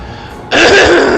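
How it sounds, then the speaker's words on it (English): One short, loud throat clearing close to the microphone, a harsh rasp that starts abruptly and holds for under a second after a quiet lead-in. "I had to clear my throat"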